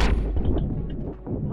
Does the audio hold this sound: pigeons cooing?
no